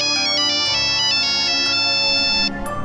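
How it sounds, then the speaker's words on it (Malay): A mobile phone rings loudly with a melodic electronic ringtone, a bright repeating tune over a sustained backing, and it cuts off near the end. No one speaks. "Dan tiba-tiba juga handphone Kak Jah berbunyi"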